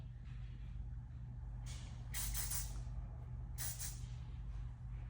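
Hairspray hisses from an aerosol can while styling beach waves, two short, close bursts of spraying about a second apart over a low steady hum.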